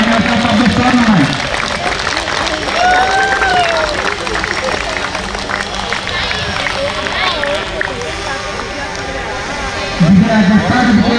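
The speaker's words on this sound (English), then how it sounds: "A big round of applause to Team Herons for runners-up of this tournament" Dense, steady crowd applause at a T20 cricket tournament final, filling the whole stretch, with voices and chatter mixed in beneath the clapping.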